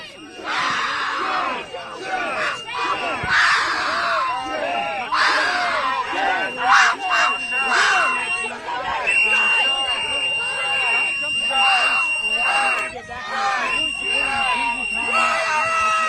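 Protest crowd yelling and chanting at armed agents, a loud continuous roar of many voices with rhythmic shouts and piercing whistle-like tones over it.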